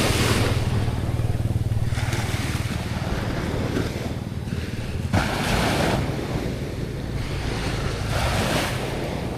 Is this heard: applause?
no